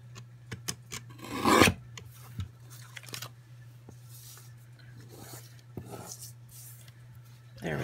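Paper printable planner stickers being trimmed produce short scraping and cutting strokes, one louder rasping burst among them, over a steady low background hum.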